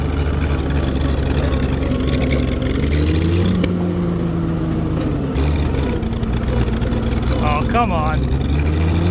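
An old abandoned tractor with fuel issues runs roughly, its low engine rumble steady and close throughout, with a person speaking briefly over it.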